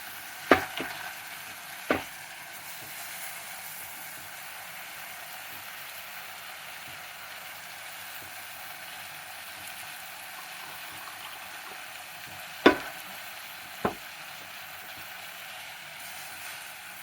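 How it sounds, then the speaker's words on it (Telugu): Rice and moong dal fry in a pan with a soft, steady sizzle. A few sharp clicks of a utensil come early and again near the end, with no voices. "ఇలా వేసి బియ్యం కూడా వేగనిస్తే ఆల్రెడీ పెసరపప్పు కూడా వేసేసాను ఇందులోనే"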